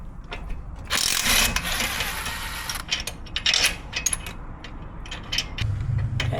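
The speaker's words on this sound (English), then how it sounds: "this is the absorber nut we have to undo" A ratchet undoing the shock absorber nut on a Hyundai Ioniq with 120,000 km, giving bursts of close metallic clicking and clanking with short pauses between them.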